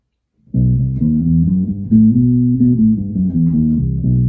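A guitar plays a rising and falling Phrygian dominant scale of sustained notes, steady and close, with no voices.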